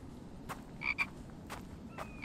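Frog croaking in the video game The Infected, a few short, faint croaks with soft clicks among them over a quiet background, without talk.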